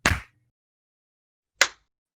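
A sharp, close hand clap rings out in a quiet room, followed after a short silence by a second similar clap.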